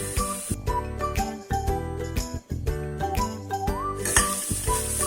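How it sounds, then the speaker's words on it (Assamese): Carrots fry in ghee with cardamom, a close sizzle beneath ringing metallic clinks and scrapes of a spoon against the pan, with a brief bright hiss near the end. "আমি গাজৰখিনি অকণমান সিজালৈকে এনেদৰে ভাজি থাকিম।"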